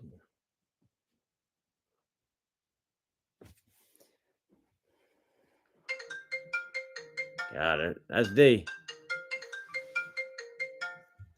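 A mobile phone ringtone plays loud and close, a repeating melodic pattern of bright electronic tones that runs for several seconds, with a short burst of voice in the middle of it.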